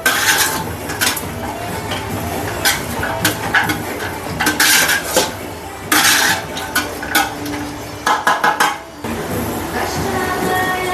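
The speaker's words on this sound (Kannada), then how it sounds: "ಇದನ್ನು ಕೂಡ ಚೆನ್ನಾಗಿ ಮಿಕ್ಸ್ ಮಾಡಿ ಫ್ರೈ ಮಾಡ್ಕೋಬೇಕು." Ingredients are stirred and fried in a pan in a home kitchen, giving a loud, close, continuous sizzle with repeated scraping and clattering of a utensil against the pan.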